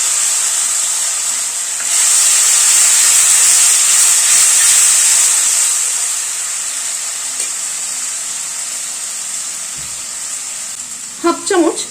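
Tomato paste hits hot oil in a pan and bursts into a loud, steady hiss of frying, which eases off slightly before a few light stirring clinks near the end.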